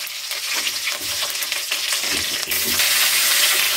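Steady, close sizzling of brinjal frying in hot oil, a dense crackling hiss that holds for several seconds with no talking.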